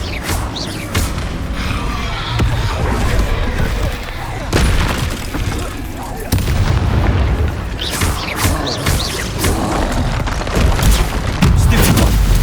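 Explosive combat spells in the video game Hogwarts Legacy burst in repeated loud booms and blasts, with crackling impacts layered over constant game action and a voice shouting spell names throughout.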